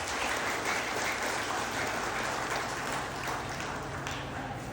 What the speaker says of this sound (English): You give, please, yourselves a round of applause.